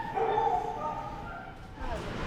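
Dogs in a shelter kennel on bite quarantine, yips and whimpering barks echoing from a short distance, heard beneath people talking nearby.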